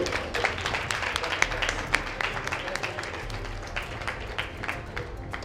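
Dense, steady clapping from a school audience at a science fair award ceremony at Dakshineswar High School, with sharp individual claps scattered through the sustained applause and faint voices underneath.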